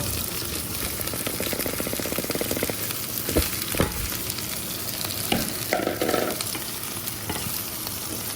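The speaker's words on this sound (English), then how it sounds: "And stir fry." Zucchini and beef trimmings stir-frying in a pan, a loud, close, continuous sizzle with rhythmic scraping and tossing strokes, a few louder clatters midway, no talk.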